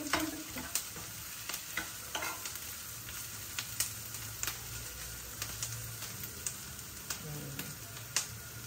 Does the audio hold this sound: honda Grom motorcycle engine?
no